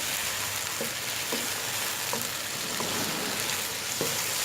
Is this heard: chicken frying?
yes